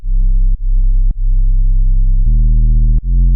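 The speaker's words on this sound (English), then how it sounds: "This is a very clean sine" A clean, pure bass tone plays in a series of sustained notes with small pitch shifts, each separated by a soft click.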